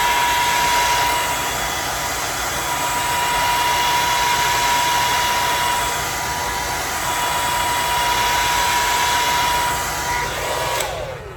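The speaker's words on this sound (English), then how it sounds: "I just put my blow dryer on cold setting to kind of speed this layer along" A handheld blow dryer on its cold setting runs as a steady, loud whoosh with a constant whine throughout, then shuts off just before the end.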